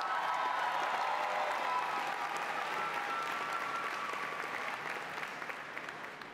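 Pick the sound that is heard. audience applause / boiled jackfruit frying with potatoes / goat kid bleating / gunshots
audience applause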